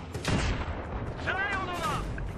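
Battlefield 3 gunfire pops and booms in quick bursts during a tank assault mission, mixed with synthetic whooshing effects and a voice speaking over the action.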